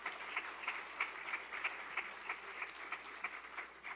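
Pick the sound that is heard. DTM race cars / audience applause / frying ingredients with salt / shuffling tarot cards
audience applause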